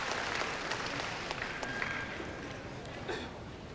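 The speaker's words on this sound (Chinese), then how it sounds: "好多人都係喺度為鄧亞平鼓掌" Spectators at a 1997 table tennis match between Deng Yaping and Wang Nan applaud steadily, a moderate, even wash of clapping that fades slightly toward the end.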